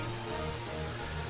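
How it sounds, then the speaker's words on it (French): Rain shower summoned by the Rain Dance move in Pokemon Stadium 2: a steady, even patter of rain with a low hum beneath it, continuous throughout. "Oh, regardez ça, une averse"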